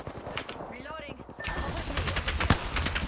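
Rapid bursts of automatic gunfire in the video game Apex Legends crackle in sharp, loud volleys, with a brief lull and whooshing effects before the shooting resumes densely; a player talks over the game sounds.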